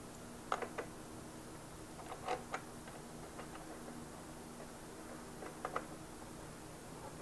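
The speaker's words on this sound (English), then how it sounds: "Tighten the nut." Nut being tightened on a Ring Master wood turning jig: a quiet run of small clicks and ratcheting ticks in short bursts, close by, over a faint steady hum.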